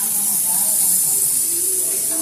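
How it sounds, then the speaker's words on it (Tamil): Fish frying in hot oil at a family get-together cooking session, a steady close sizzle and hiss running throughout, with faint voices murmuring underneath. "Fish fry."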